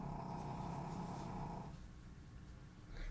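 A pet snoring steadily up close, a low rumbling drone with a nasal buzz that eases off partway through.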